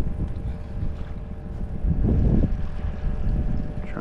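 A boat motor hums steadily on open water during a striped bass fishing trip, partly masked by heavy wind buffeting the microphone.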